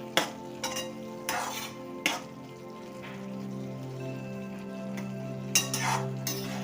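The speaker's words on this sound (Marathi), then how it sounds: "बघा सर्व असं मिक्स करून घ्यायचं।" Vermicelli being stirred in a pan over low to medium heat, spoon scrapes and clinks against the pan at irregular intervals over a soft steady sizzle, close by with no speech.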